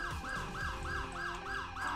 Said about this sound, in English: These are some pretty neat sirens